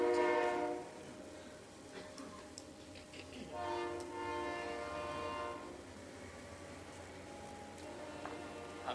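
A train passes nearby with repeated horn blasts, long harmonic blares that swell and fade over a rumbling rail background, no talk.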